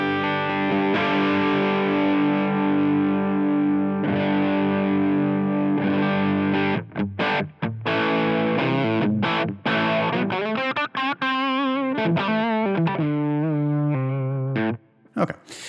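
A distorted electric guitar runs through a Line 6 Helix modelling the German Mahadeva amp, captured by a 160 ribbon microphone four inches from the speaker, playing sustained heavy chords followed by choppy, stopping riffs and single-note runs, loud and alone.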